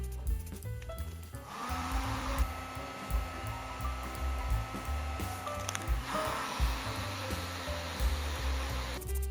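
A heat gun blows hot air onto a powder-coated metal bracket, a loud, steady, close whooshing roar that starts after a brief quieter moment and runs continuously to the end with no talking.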